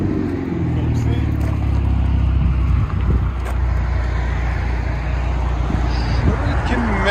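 2021 Chevy Camaro with a rear muffler delete and 4-inch tips: a loud, deep exhaust drone with rising and falling engine tone, buffeted by wind, and someone talking over it.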